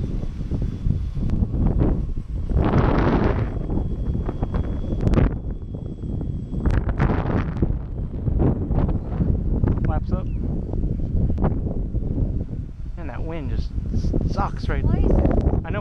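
Gusty wind buffets the microphone on an airfield flightline beside a P-38, a loud broadband rumble that runs steadily throughout under frequent talk.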